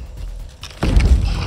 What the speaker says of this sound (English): After hitting the sycamore tree with a big rock,